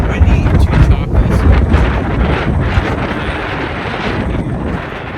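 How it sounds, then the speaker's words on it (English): Strong wind gusts across choppy Loch Ness, a loud, steady roar buffeting the microphone throughout, with no other clear sounds. "I wanted to get out on the lake, but it's too windy and too choppy"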